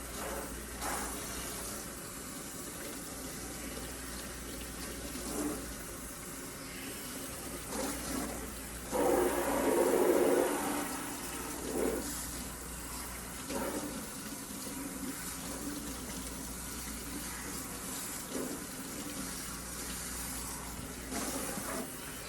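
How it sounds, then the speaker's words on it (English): Tap water runs at a salon shampoo sink while hair is rinsed, a steady hiss with splashing that swells partway through, quiet and continuous. "Turn on that water."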